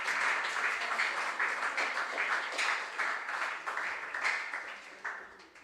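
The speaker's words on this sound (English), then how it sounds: "Let's again give our contestants a round of applause." Steady round of audience applause for student contestants at a regional junior science and maths quiz final, moderately distant and sustained throughout without talk.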